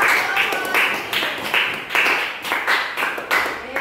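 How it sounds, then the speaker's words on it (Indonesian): A classroom of pupils claps for a group in a rhythmic, patterned way, repeated bursts of close hand claps in a steady beat with no clear speech. "Tepuk tangan untuk kelompok."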